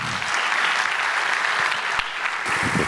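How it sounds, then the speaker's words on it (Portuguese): Audience applause at a scientific sports-psychology gathering greets a speaker, a steady wash of many hands clapping, even and sustained for the whole stretch. "Salva de palmas para Marisa"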